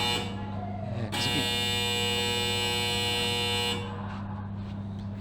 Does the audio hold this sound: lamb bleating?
no